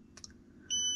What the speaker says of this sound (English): This one beeps for a moment